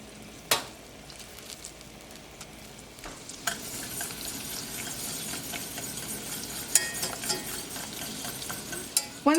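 Melted butter and sweetener cook in a pan for keto caramel sauce, stirred often, with a steady sizzle, scraping strokes and occasional utensil clinks against the pan.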